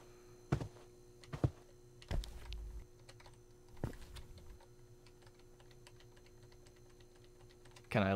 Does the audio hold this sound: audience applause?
no